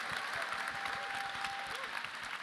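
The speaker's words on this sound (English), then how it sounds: "A round of applause." Crowd applause at a Star Wars Celebration 2025 panel, dense steady clapping that sounds distant in the hall, with a faint voice and a cheer rising briefly above it.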